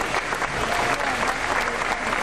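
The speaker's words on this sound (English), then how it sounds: "Give this gentleman a round of applause for being brave today." An audience claps for a volunteer called up from the crowd at an animal actor stage show at Universal Studios Florida in 1994, a dense, steady wash of applause filling the whole moment.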